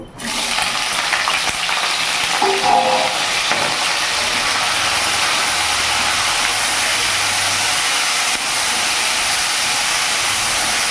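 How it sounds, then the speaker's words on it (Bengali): Okra goes into hot oil for a light shallow fry for bhindi masala. A loud, continuous hissing sizzle starts abruptly and holds steady, with a few faint clinks early on. "আমি এবার ভেন্ডিগুলোকে হালকা ফ্রাই করে নেব"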